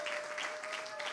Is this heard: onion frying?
no